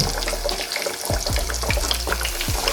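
Chicken pieces frying in hot oil, a loud continuous crackling sizzle with repeated sharp pops and spatters, close up and alone.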